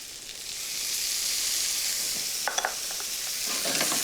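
Capers and chopped basil fry in a hot pan with a steady, soft sizzle, and a few light clicks of a utensil come in near the end.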